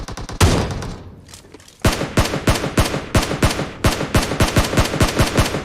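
Rapid automatic gunfire from PUBG Mobile, loud and close, a first burst then a pause before a long run of sharp, evenly spaced shots.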